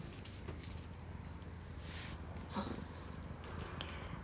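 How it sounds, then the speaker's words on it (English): Metal tags on a dog's collar jingle faintly in the background, in a few scattered light clinks over a steady low room hum. "so you might hear my dog's dog tags in the background"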